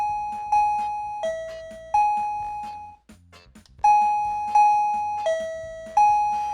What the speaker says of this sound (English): before we start playing the doorbell tunes, we're going to adjust the volume so you can see different volume levels